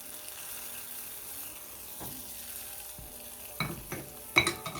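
A hot tempering of shallots, dried chillies and curry leaves is poured into pineapple pachadi: a soft, low background hiss breaks into a few sharper crackling sizzles toward the end.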